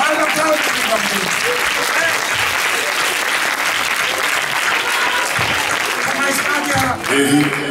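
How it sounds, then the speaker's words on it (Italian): An audience at a summer camp show bursts into sustained, loud applause for a child, steady and continuous throughout, with voices speaking over it. "applauso per il bambino!"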